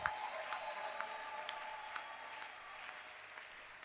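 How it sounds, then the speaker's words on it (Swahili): Applause from a church congregation during a sermon, fairly faint and distant, with scattered individual claps standing out from a soft, continuous wash of clapping. "makofi."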